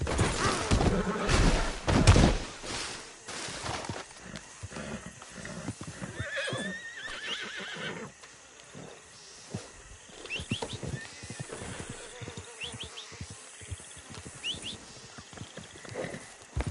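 A horse in a PS4 video game whinnies and neighs several times while its hooves clip-clop steadily across the ground, with occasional thuds mixed in.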